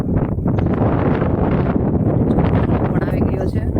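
Strong gusting wind ahead of rain buffets the microphone outdoors, a loud continuous rumbling roar with rustling through the whole clip, and a voice speaks over it.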